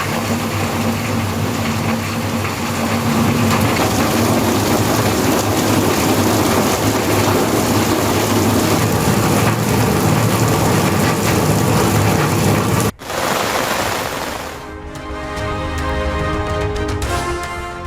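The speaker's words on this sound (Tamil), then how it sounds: "ராமநாதபுரம் மாவட்டம் ராமேஸ்வரத்தில் வெளுத்து வாங்கும் மழை." Heavy downpour in Rameswaram, Ramanathapuram district, with strong winds and rough seas nearby: a dense, loud, continuous roar of rain that breaks off sharply near the end, giving way to quieter dripping and tonal sounds.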